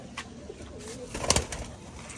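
Rajshahi tumbler pigeons at a hobby loft give soft, faint coos and rustles, with a brief louder flutter of wings near the middle against quiet background noise; no speech.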